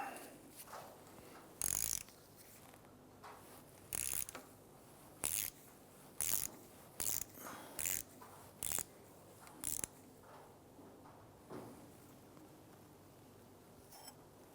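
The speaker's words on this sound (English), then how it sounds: "we're going to use our 15mm socket to loosen this nut" A ratchet on a 15mm socket works a shock nut loose on a 1999-2004 Jeep Grand Cherokee, giving about eight sharp, separate clicking bursts spaced roughly a second apart against a quiet garage background.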